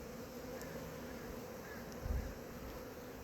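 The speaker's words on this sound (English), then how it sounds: "I see some bees going in." Honeybee swarm clustered on a tree outdoors in spring, a faint steady insect buzz with light wind noise and a brief low thump near the end.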